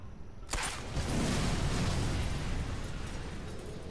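An explosive barrel blows up in the Sniper Elite 4 video game, a sudden sharp blast followed by a deep rumbling roar that slowly fades over a few seconds, alone without talk.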